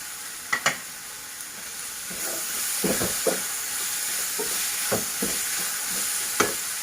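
Chopped tomatoes go into a frying pan for a Sindhi butter paneer masala, raising a steady close sizzle with a few sharp spatula clinks and stirring scrapes scattered through it.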